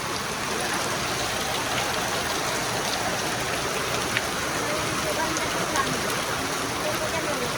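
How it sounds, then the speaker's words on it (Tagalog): Heavy rain pouring down steadily outdoors, a dense, loud, unbroken hiss with a few faint drop ticks and no pauses throughout. "Ayan, lakas na naman ang ulan."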